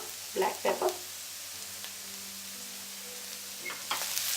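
Vegetable fried rice sizzles in a pan as it is tossed and stirred, a soft steady frying hiss broken by a few scraping bursts from the tossing.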